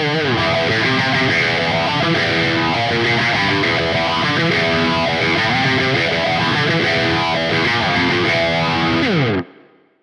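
A guitar plays through a Gojira overdrive pedal with phaser and reverb on a Quad Cortex, chords sounding thick and saturated with a sweeping shimmer, continuous and loud until it is cut off abruptly near the end.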